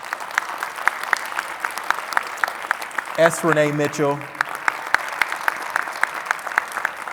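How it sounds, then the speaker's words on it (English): Panelists at a humanities center event receive a round of audience applause, steady clapping that runs throughout under a host's voice, with a brief stretch of speech in the middle. "So join me right now in a round of applause for Ms."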